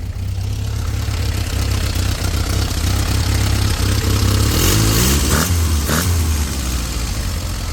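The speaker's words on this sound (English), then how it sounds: "Let's fire it up." A 1968 Fiat 850 Spider, a water-cooled roadster with a dual-throat Weber carburetor, runs with a loud, steady idle throughout. Near the end a couple of brief revs or clunks rise above the engine drone.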